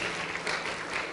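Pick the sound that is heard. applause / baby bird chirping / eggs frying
applause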